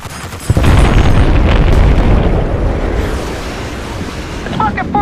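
JDAM airstrike explosions in the video game Battlefield Bad Company 2 hit a tunnel: a sudden loud boom bursts in early, then a long rumbling roar slowly fades, with a faint voice near the end.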